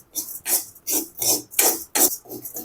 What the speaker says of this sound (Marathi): तर ही डाळ बघा अशी चमच्याने सारखं हलवत राहायचं